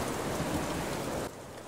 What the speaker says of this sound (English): You even hear little bits of thunder in the sound effects, which is really nice to see.